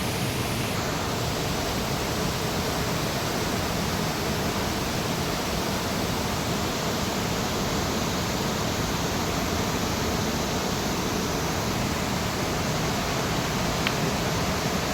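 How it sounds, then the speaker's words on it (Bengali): Near a living root bridge in Cherrapunji, a rushing stream pours past in a loud, dense, unbroken roar of water that stays steady throughout, close by and with no voices. "এই দেখুন কি জল চলে যাচ্ছে অজস্র জল অজস্র জল যেমন তার শব্দ তেমন তার স্রোত"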